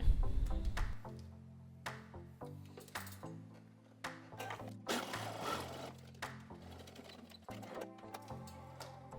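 A sewing machine topstitches a seam on fabric strips for a ruffle scrunchie, giving short bursts of close, rhythmic mechanical stitching interrupted by pauses and fabric rustling.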